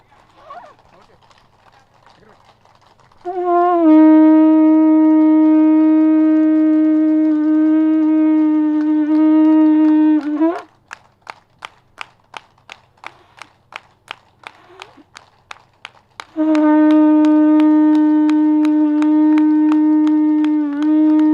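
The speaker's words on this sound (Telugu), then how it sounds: "గట్టిగా గట్టిగా క్లాప్స్ కొడదాం." A rally crowd at an event in Venkatapuram claps loudly in a steady unison rhythm of sharp, evenly spaced claps, with long sustained horn-like tones droning before and after.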